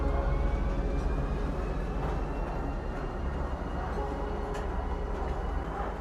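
A train ride in the video game Star Citizen: a steady, low rumbling rail hum with faint clatter rolls on continuously throughout, with no speech.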